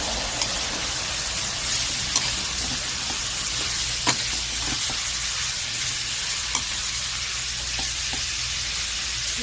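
One kilo of bitter gourd (ampalaya) stir-frying in a home-kitchen pan for a sauté with tomato, shrimp paste and egg, giving a steady close sizzle and crackle with occasional utensil scrapes and taps, no talking.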